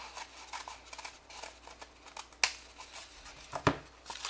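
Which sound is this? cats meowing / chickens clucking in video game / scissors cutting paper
scissors cutting paper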